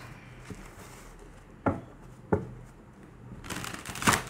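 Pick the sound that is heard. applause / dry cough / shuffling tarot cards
shuffling tarot cards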